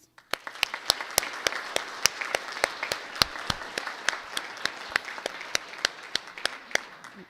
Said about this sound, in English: That was a round of applause to thank our candidates